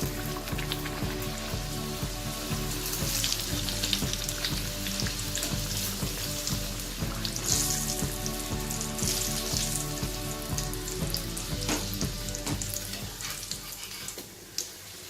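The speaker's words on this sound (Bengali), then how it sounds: "হ্যাঁ, আমাদের তেলটা গরম হয়ে গেছে। এবার আমি একটা একটা করে ভেজে নেব। একটা একটা করে রাধাবল্লভী ছেড়ে দেবো।" Urad dal kachori (radhaballavi) fry in hot oil, a steady, fairly quiet bubbling sizzle with crackles, occasional stirring or turning clatters, and a brief knock near the end.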